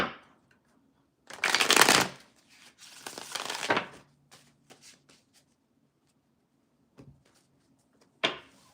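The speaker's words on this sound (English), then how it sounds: "I'm going to shuffle 3 times and we'll get some clarification" Tarot cards are shuffled in several quick riffling bursts, crisp and close, separated by quiet pauses with small taps and handling noises, and a final short shuffle at the end.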